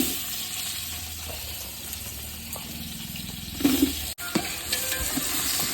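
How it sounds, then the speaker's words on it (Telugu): Sliced onions frying in oil in a pan for chicken biryani, giving a steady, close sizzle with occasional stirring knocks and clinks. "ఇప్పుడు సాల్ట్ వేసుకుంటే ఫాస్ట్గా ఎగుతాయి ఉల్లిపాయలు."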